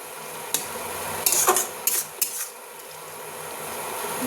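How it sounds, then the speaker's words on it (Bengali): A spoon stirring salt and sugar into a pot of thor (banana stem) curry. A few sharp scraping clinks of metal against the pot come in short bursts over a soft, steady hiss. "এবার আমি এটা নুন আর চিনিটা এর সাথে মিশিয়ে দেবো"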